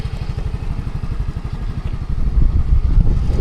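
A Suzuki motorcycle engine idling close by with a steady low putter, growing slightly louder and rougher toward the end.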